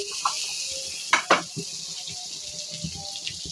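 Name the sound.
small fish being sautéed in a pan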